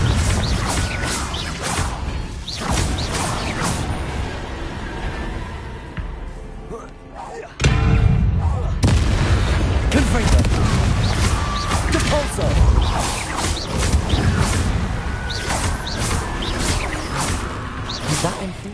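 Repeated Confringo fire spells blasting in the Hogwarts Legacy game, dense crashing impacts and whooshes layered over continuous game noise and a voice calling out, with a brief lull before the loud bursts resume.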